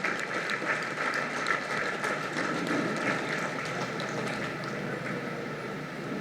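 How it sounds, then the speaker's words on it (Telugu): An audience claps steadily throughout at a Women's Day celebration, honoring a woman named Savitramma, with a dense, continuous patter of many hands at moderate distance and no pause. "మొట్టమొదటి ధ్యాన మహిళ సావిత్రమ్మ గారికి ఒకసారి క్లాప్ చేసుకుందాము"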